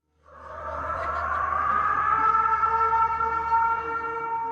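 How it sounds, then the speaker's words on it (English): A tsunami warning siren in Tonga after a magnitude 7 earthquake wails as a loud, sustained tone that swells in after a brief silence and holds steady, slightly wavering, with no talk. "Tsunami sirens rang out across the kingdom for hours after the magnitude 7 quake struck"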